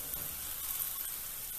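Onions, garlic and seasoning fry in a pan with a steady, close, bright sizzle that stays even and continuous throughout, with no talking.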